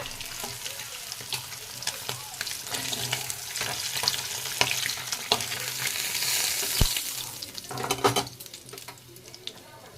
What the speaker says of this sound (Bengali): মাছের দুই দিকে ভাজা হয়ে গেছে, এবার তুলে নেব।